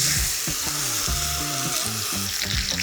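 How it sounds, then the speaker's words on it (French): A bone-in rib steak sears in a hot pan with a steady, loud sizzle and crackle, joined by a few low clunks and scrapes of the pan. "Et on va la poser délicatement dans notre poêle chaude."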